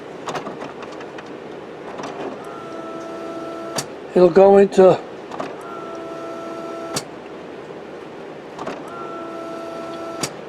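An HP Officejet Pro printer fitted with a continuous ink system runs its mechanism, with repeated whirring motor passes and sharp clicks, faint and close, while a person briefly speaks.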